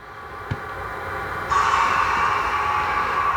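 A model train locomotive running on its layout, a steady mechanical hum and rattle that grows louder and fuller partway through, with one brief click near the start.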